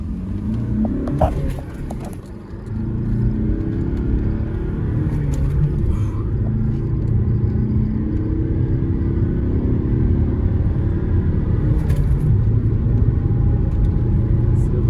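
A car pulls hard up to speed on a highway, a steady loud engine rumble and road roar building and holding throughout, with a brief dip early on.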